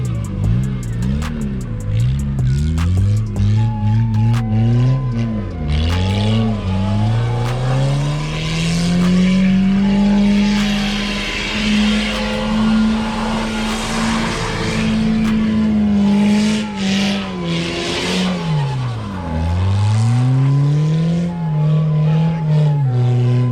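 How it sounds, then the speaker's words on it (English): A car sweeps through a reverse donut on grass, its engine holding a loud, steady high drone that dips and climbs as the throttle shifts, with tyre scrub and wind noise across the whole spin. "This next trick is gonna be the reverse donut."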